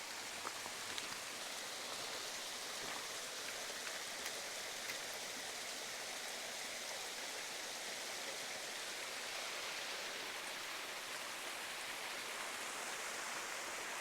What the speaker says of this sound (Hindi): ये पानी नीचे जा रहा है,